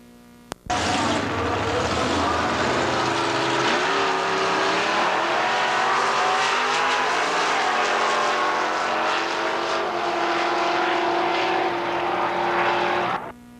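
A pair of Plymouth Cudas at a drag race roar off the line together, a loud sustained engine scream rising in pitch through the run before cutting off abruptly.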